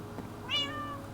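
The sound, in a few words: cat meowing in Minecraft video game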